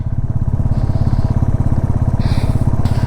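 An adventure motorcycle carrying two riders labours uphill, its engine a close, loud, rapid throbbing pulse that holds steady throughout.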